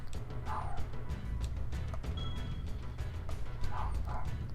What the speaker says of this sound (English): It'd be nice if he'd stop barking.